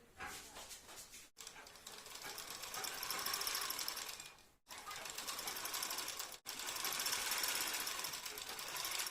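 A sewing machine stitches all the way around a bra cup for a size 52 bra in three sustained runs, each broken by an abrupt brief stop; the rapid needle chatter is close and steady.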